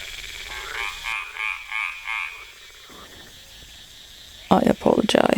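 Frogs croak in a lively swamp chorus, pulsing in short rhythmic bursts near the start before a softer stretch, then a loud, busy clatter of calls and splashes toward the end.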